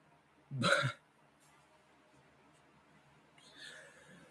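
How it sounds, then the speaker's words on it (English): A short, abrupt burp pops out close to the microphone, a single throaty burst lasting under half a second, followed by quiet and a faint murmur. "I burped."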